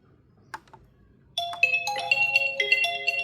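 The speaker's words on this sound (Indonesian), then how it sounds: "Nah, ada telepon." A phone ringtone suddenly starts and chimes on in a bright, repeating melody, fairly loud and close, in a repair workshop where a TV is being fixed; before it only faint background noise and a couple of soft knocks.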